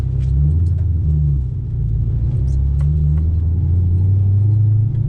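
A Ford Mustang fitted with a new exhaust and intake rumbles with a deep, steady low drone, the pitch shifting slightly as it drives off, loud and close with faint ticks above and no talking.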